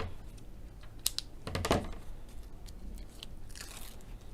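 Scissors make a few sharp snips and crunchy cuts through craft card strips fitted with foam pads, close and clear in a quiet room.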